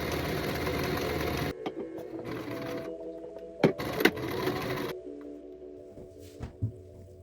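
A sewing machine stitching a seam on a 1990s-style tank top, whirring steadily at first, then stopping and restarting in short runs with soft clicks and handling bumps close by.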